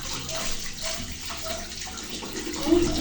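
Water gushes steadily from a tap, a close, continuous splashing rush with a slight gurgle near the end.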